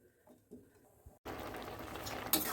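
Mixed vegetables boil in water in a pot; after a quiet start with faint clinks, a steady broadband hiss of bubbling water suddenly begins and carries on evenly.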